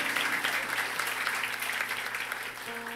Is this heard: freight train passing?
no